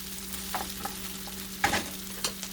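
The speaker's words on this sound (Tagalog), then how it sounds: "Gisa-gisa lang natin guys yung ating luya." Ginger sautéing in a pan, a soft steady sizzle under a low hum with a few sharp scraping stirs, close by and fairly quiet, with no talk.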